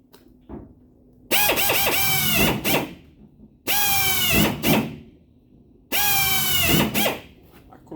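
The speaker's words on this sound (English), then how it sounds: "Close my eyes while I'm drilling," Power drill boring into a Dodge Ram quarter panel during bodywork repair: three loud, whining bursts of about two seconds each, pitch dropping as the bit bites into the metal, separated by short pauses, close up.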